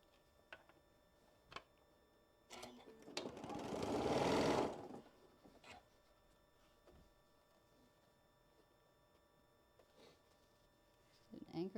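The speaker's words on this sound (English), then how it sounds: "Anchoring stitches, and then I'm coming down, making sure I don't sew that point." A sewing machine stitching a quilt block runs in one short burst of about two seconds, loud and close, with scattered soft clicks and handling noises before and after.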